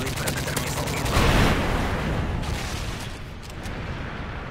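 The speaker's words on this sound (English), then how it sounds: "Friendly Predator missile inbound." A Predator missile strike in the video game Modern Warfare 3 lands as a loud, rumbling explosion that swells briefly, then fades into a dense bed of continuous gunfire and battle noise.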